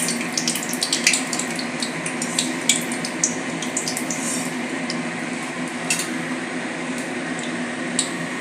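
Battered brinjal slices frying in oil give a steady, close sizzle with frequent sharp crackling pops, and no voices are heard.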